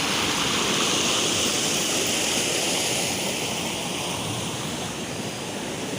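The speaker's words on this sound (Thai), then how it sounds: "ตรงนี้คือน้ำตกนะครับผม" Steady broadband rush of falling water, a continuous roar from Ton Ta Thet waterfall in Surat Thani, Thailand, heard from nearby with no voices.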